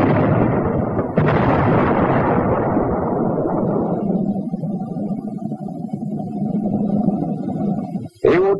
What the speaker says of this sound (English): The high explosive shell for jobs like the roadblock, and the high explosive anti-tank shell for jobs like this.